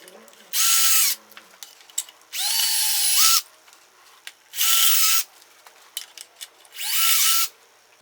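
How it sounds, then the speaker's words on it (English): Four loud bursts of a power drill boring into concrete, each lasting about a second, separated by short pauses with small clicks and knocks. "just drill 4 holes around the perimeter there"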